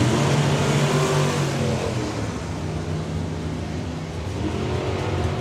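Supergas drag race cars at the Summer Nationals drag racing event, loud engines roaring steadily from the line with a dense, continuous rumble and a slight dip midway before swelling again.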